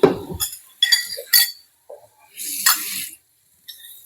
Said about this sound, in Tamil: தண்ணி சுண்டிடுச்சு மம்மி, கொஞ்சோண்டு ஊத்துறேன்